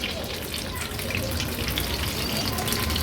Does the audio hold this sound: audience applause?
no